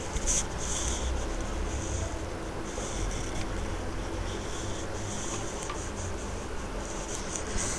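A pencil sketches logo icons by hand on paper, giving a continuous soft scratching with faint strokes and taps, close and quiet, with no talking.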